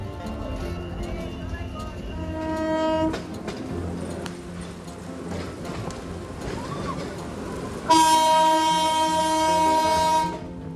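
A Narayanganj commuter train pulls away from a station near Dhaka, its carriages rumbling steadily under a talking voice, then a loud, sustained horn blast sounds near the end.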